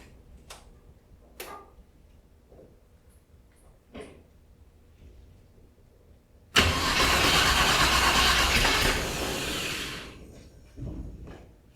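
A car engine fitted with old school cylinder heads is cranked. Soft ticks and clicks come first, then it bursts into a loud running roar for about four seconds before the noise drops back to scattered faint sounds.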